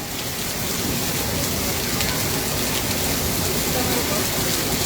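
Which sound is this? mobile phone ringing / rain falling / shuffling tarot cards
rain falling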